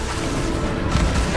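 Bombarda explosion spell cast in the video game Hogwarts Legacy, a dense, loud burst of booming blast noise with rumbling low end, continuous over a short stretch with a swelling impact near the end.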